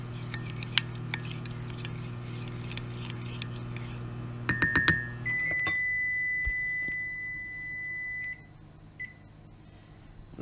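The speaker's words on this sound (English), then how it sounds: "Give that a stir." A bowl of mixture with a half teaspoon of vanilla gets stirred, a quick cluster of bright clinks against the bowl rising over a steady background hum, then a sustained electronic tone.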